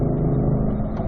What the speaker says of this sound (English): so Dries, let's go to 4th gear here.